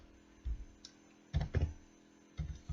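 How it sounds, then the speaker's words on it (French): Keystrokes on a computer keyboard as a short terminal command is typed during Apache 2 web server setup: a few sparse clicks, then a quick cluster of taps and a final press, close and quiet with no voices. "Maintenant, on tape ls"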